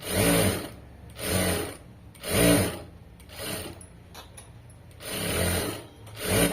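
Sewing machine stitching along a folded fabric edge in short repeated bursts, roughly five close whirring runs separated by brief pauses, with no talk.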